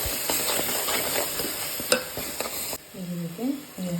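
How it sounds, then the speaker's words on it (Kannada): A spoon stirs chilli powder, garam masala and coriander powder into sizzling keema masala in a pan, with steady frying hiss, scraping strokes and a sharp metallic clink, then a quieter stretch of clearer scrapes near the end. "ಇದೆಲ್ಲ ಹಾಕಿ ಚೆನ್ನಾಗಿ ಮಿಕ್ಸ್ ಮಾಡ್ತೀನಿ"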